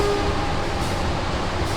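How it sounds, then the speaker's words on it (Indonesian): Progo economy train being shunted south at a station, a steady loud rumble of rolling railcars filling the whole stretch without a break. "Ini kereta Progonya belum berangkat ya. Ini baru dilangsir ke arah selatan."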